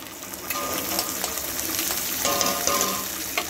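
Onion frying with green chilli paste and ginger paste is stirred in a pan, a steady close sizzle broken by repeated scraping and clinking strokes of the spatula.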